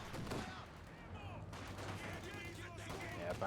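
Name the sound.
gunfire from rifles and machine guns in Company of Heroes video game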